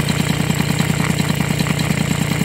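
A belt-driven engine, fitted with a thinner belt, runs close by with a steady, rapid chugging throb and a constant mechanical hum.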